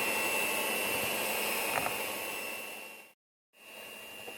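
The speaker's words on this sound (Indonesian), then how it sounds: "Lalu kita mixer kembali sampai semua tercampur merata." Electric hand mixer beating granulated sugar and vegetable oil into cake batter for a sesame seed cake, a steady loud whirring drone with a thin tonal whine, cutting out briefly near the end and then starting again.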